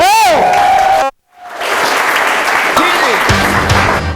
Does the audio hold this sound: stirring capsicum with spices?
no